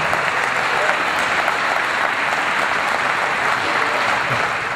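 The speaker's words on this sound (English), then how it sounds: "Give him a round of applause." A crowd at a monster truck museum hall of fame induction ceremony bursts into loud, sustained applause for an award recipient, thick continuous clapping with a faint crowd murmur underneath.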